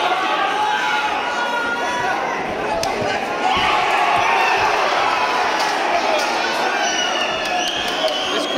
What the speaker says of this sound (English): Like to cheer about nothing, don't they?